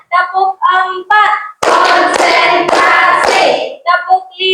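A classroom of children clapping a rhythmic clap pattern, with bursts of chanting voices between sharp, loud rounds of hand claps.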